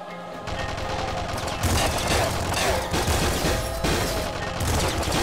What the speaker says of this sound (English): just this barrage of shots, though